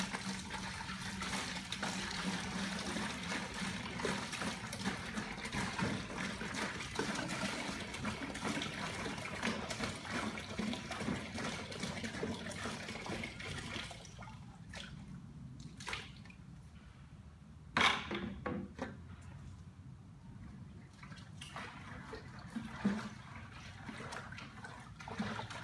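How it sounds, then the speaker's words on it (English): Water runs and splashes steadily into a bucket, about 5 liters, for a long stretch, then thins to a trickle with a few clunks and drips. "Add 5 liters of water."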